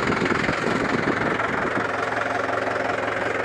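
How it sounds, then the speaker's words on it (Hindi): A Mahindra 575 tractor engine runs steadily near the listener, a loud, low diesel chug with a slight knocking rhythm that settles into an even idle. "और अब आपको इसके ट्रैक्टर की आवाज़ दिखाऊंगे चला कर कैसी आवाज़ बना रहा है।"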